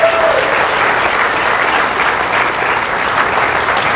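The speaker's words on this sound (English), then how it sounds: "Let's give him a round of applause." An audience at an award ceremony applauds loudly and steadily throughout, a dense wash of clapping from many hands.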